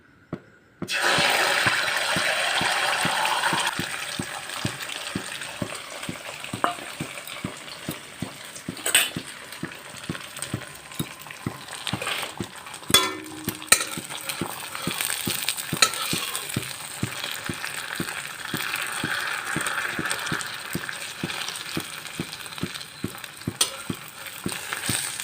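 Beaten egg seasoned with turmeric and salt poured into a hot pan, starting with a sudden burst of loud sizzling that settles into a steady crackling fry with scattered pops and light scraping, close and continuous.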